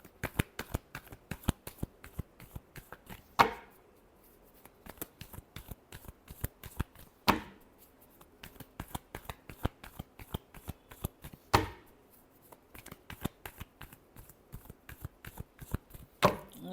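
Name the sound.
shuffling tarot cards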